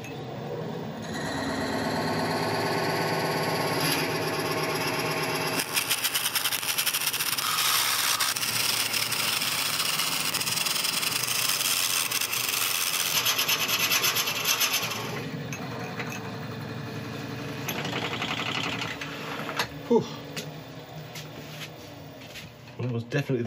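A drill bores into very hard greenheart wood for a mallet, a sustained rough grinding rasp that shifts in pitch and intensity, with a brief lull and renewed cutting before stopping, voices occasionally present.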